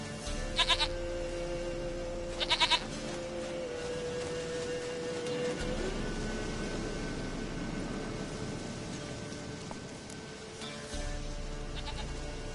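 A goat in The Witcher 3 video game gives two short bleats early on, each a quick wavering burst, over a low steady ambient hum that carries on alone afterward.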